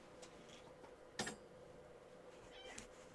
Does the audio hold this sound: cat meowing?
yes